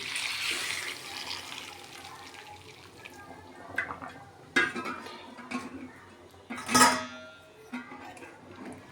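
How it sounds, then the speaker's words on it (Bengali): Hot water poured into a pan of browned country chicken curry, a gurgling splash with a few clinks of a pot and utensil, close by. "গরম জলটাই দিয়ে দিচ্ছি।"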